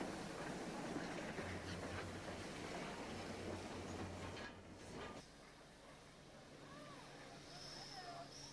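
Vintage steam locomotives from Rolvenden run along a heritage railway at a 1999 gala, a steady rumbling wash of train noise with a low hum, easing off midway, with faint voices underneath.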